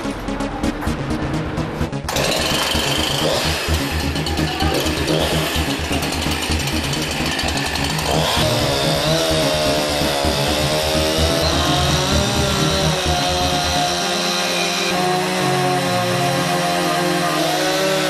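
A loud, continuous chainsaw roar that holds steady and shifts pitch as the engine works, close by and with no voices.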